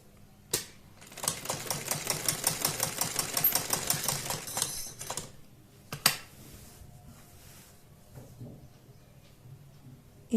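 A sewing machine stitches patchwork onto a kurti neckline in a fast, even run of needle strokes, then stops, followed by a sharp click and a softer short burst close by.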